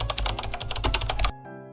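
Rapid clattering keystrokes on a computer keyboard as a dealer code number is entered, a dense close burst of taps lasting just over a second before stopping abruptly.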